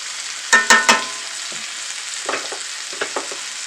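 Chicken pasta cooks over medium heat in a cast iron pan, with three sharp spoon clacks and scrapes early on, then softer stirring taps over a faint sizzle.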